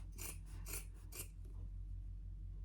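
Scissors make three quick crisp snips as they cross-cut the corners of a fabric flap close to the stitching on a clutch bag, followed by a steady low hum with no further cutting.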